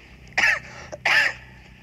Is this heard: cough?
yes